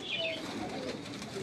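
A large pigeon, held in someone's hands on a Karachi rooftop, gives a faint, soft coo, with quiet background noise.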